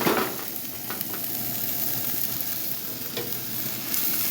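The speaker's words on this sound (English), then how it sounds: "we're going to give it a couple of good shakes and flips" Steak quesadilla filling sizzles and rattles in a hot pan as it is shaken and flipped, a steady loud frying hiss with a few sharp tossing scrapes near the start.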